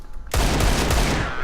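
Rapid, loud gunfire from a Desert Eagle pistol in the CS:GO video game erupts suddenly and sustains as a dense burst of shots through the rest of the short moment, with no talking over it.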